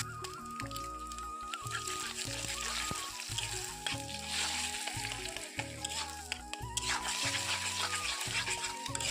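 Dhekia fern greens with turmeric fry in a pan, giving a soft, continuous sizzle at low volume with faint stirring and other background sounds.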